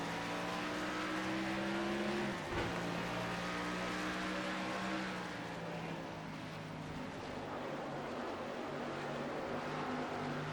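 Race cars in NASCAR Racing 2003 drone past as a steady roar of engines, with one sweeping pass near the start and a continuous engine wash after it.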